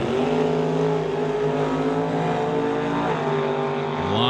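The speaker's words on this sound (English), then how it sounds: "So the Corvette, in this case, it will be leaving the start line first." A Corvette and a Chevelle roar hard at a drag racing start line, loud engines droning steadily for several seconds with rising and shifting pitch as the cars launch and pull away.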